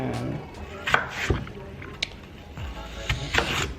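Knife cutting apples and plums for baby food pouches, sharp chopping taps on a board scattered irregularly, close and moderately loud.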